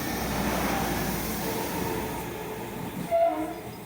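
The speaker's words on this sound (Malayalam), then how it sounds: "അപ്പോൾ ഗൈസ്, എനിക്ക് പോകുന്ന ട്രെയിനാണ് വന്നുകൊണ്ടിരിക്കുന്നത്." A train pulls into a railway station in Kerala with a steady low rumble, and a brief horn sounds near the end.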